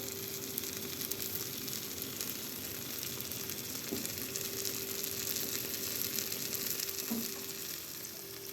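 Steady, close crackling sizzle of tomato paste and peppers frying in a pan, continuous and even throughout, with no talking.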